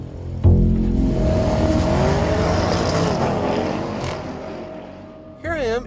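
Audi RS7 with a twin-turbo 4-liter V8 under way. A loud, close engine drone sweeps up and down in pitch as it accelerates, then eases off before a short, sharp surge near the end.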